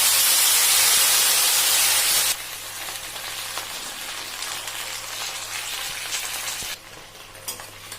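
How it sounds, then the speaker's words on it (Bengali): Chopped vegetables hit hot oil with tempered spices in a nonstick pan, starting with a loud, dense hiss that drops abruptly to a quieter steady sizzle with faint stirring scrapes, then softens further near the end. "এবার এর মধ্যে দিয়ে দেবো কেটে রাখা সবজিগুলো"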